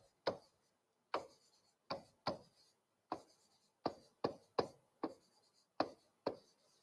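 Pen strokes on paper as class notes are written by hand: about a dozen short, crisp scratching bursts in an irregular rhythm, close and fairly quiet, separated by brief silences.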